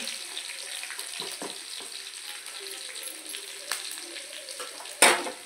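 Green chilies and garlic frying in oil for a colocasia leaf vegetable dish, a soft, steady sizzle with scattered light clinks and one sharp clatter near the end.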